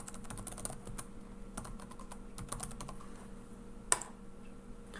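Login details typed on a computer keyboard, a quiet run of quick, uneven key clicks with one sharper tap near the end, no voices.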